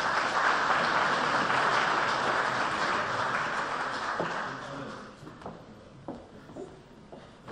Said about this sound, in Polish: Państwa poproszę o ładne brawa dla Pani Prezes